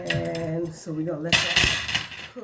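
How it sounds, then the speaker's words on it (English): Metal utensils clink and clatter beside a hot pot being prepared with garlic, butter and sesame, with a burst of close rattling after a person speaks briefly. "excuse the noise. Trying to get my utensils together here."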